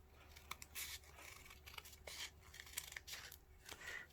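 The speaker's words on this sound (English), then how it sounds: "here I've got my pair of scissors and I'm going to start cutting" Scissors cutting paper for Chinese paper cutting, heard as quiet, close snips and crisp rustling in an irregular run, with no talking.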